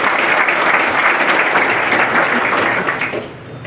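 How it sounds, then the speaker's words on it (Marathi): An audience at a coaching academy's third anniversary event in Satara gives a student a round of loud, dense applause that holds steady and then fades out. "त्याच्यासाठी एकदा जोरदार टाळ्या वाजवायच्या."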